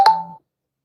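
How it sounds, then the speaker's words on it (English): A mobile phone gives one brief electronic notification tone, clean and alone, that fades out within half a second. "that's my phone."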